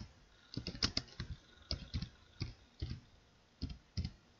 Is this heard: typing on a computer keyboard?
yes